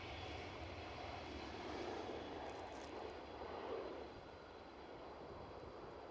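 A fixed-wing airliner landing at Edinburgh Airport in windy, gusty weather, heard as a steady distant engine roar and rush that swells slightly and then eases off, with no voices.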